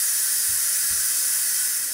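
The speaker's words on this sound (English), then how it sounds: "it says steam release" An Instant Pot pressure cooker lets off steam through its release valve after cooking chicken and rice. A loud, steady, broadband hiss runs through the whole moment, with two faint low thumps near the start.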